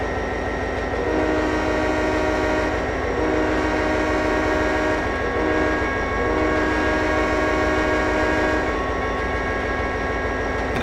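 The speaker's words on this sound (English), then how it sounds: "Dynamic braking uses the power of the locomotive engine to slow the train down." A locomotive's dynamic braking in the Trainz 2010 simulator, heard as a loud, steady, droning roar with tonal whine and horn-like sustained tones, unbroken throughout with no talk.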